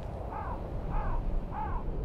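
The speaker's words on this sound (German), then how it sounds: "Raben." Ravens in The Witcher 2 give three harsh, evenly spaced caws over a low rumbling ambient background, moderately close and clear.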